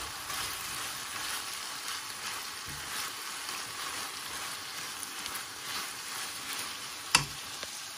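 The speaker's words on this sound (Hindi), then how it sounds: "और इन सब्जियों को जो है हमने 2 से 3 मिनट पकाना है इसके अंदर।" Carrots and peppers fry in a pan for pasta bolognese, giving a faint, even crackling sizzle with light stirring and one sharp click near the end.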